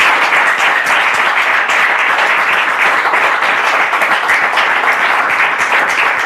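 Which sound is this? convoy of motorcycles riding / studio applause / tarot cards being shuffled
studio applause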